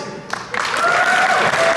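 An audience at a furry convention variety show breaks into applause that swells after a brief quiet start, a dense roar of many hands clapping, with voices audible underneath.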